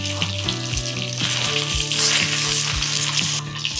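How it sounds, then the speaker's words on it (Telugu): Dry red chillies fry in hot oil in a kadai, a loud, close, continuous sizzle broken by regular stirring scrapes about every half second, with no voices present. "సో క్రిస్పీగా వేయించేసుకోవాలి ఎండుమిర్చి."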